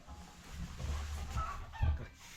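Chickens cluck in a low, busy murmur at a farm, with a louder burst near the end and a faint voice nearby.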